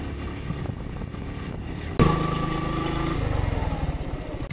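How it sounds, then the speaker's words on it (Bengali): Motorcycle on a steep mountain road toward Boga Lake in Bandarban, engine labouring hard in first gear, with a sharp jolt midway and then a sustained loud strained drone with a pulsing low throb. "বাইকের আমার পুরো এক গিয়ারে জোরে প্রেসার মারছি।"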